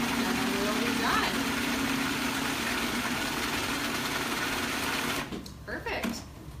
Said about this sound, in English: Give it another whir.